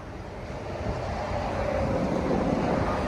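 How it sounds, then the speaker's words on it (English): Steady, broad roar of wind buffeting outdoors at a highway rest area, rising slightly louder over a few seconds, with a constant low rumble beneath and no voices. "It's really windy too."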